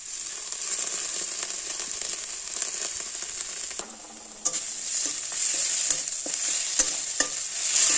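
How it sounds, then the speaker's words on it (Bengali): Ginger garlic paste frying in a pan with oil and being stirred, a steady bright sizzle throughout, dipping briefly then returning with scraping utensil clicks near the end. "এবার দিয়ে দেবো আদা রসুন পেস্ট"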